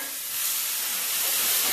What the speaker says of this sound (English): I'm gonna hit that with a little bit of water as well, just to give a little steam.